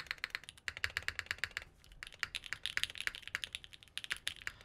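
Rapid clicking presses on a mechanical keyboard fitted with an ABS spacebar keycap, a dense run of close, crisp keystrokes with no talking.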